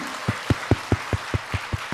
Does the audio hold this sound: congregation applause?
yes